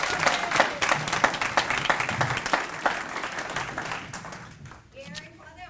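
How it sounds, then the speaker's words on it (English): A crowd at a Citizen of the Year 2015 event applauds the MC, with loud sustained clapping from many hands that gradually fades. A voice begins to speak as the clapping dies away. "Give him a round of applause."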